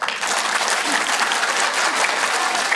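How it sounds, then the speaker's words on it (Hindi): A large group claps their hands continuously, a thick, even wash of applause with no pauses. "तो टॉम ताली बजाएंगे"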